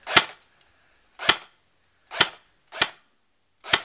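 A Cyma Thompson 1928 airsoft gun fires five separate sharp snapping shots about a second apart, each crisp and close with a quick decay, and silence between them.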